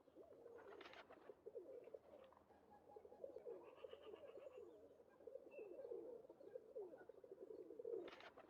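Pigeon cooing from the Nancy Drew: Phantom of Venice computer game, a steady low murmuring coo running throughout over faint ambient background, with no talk.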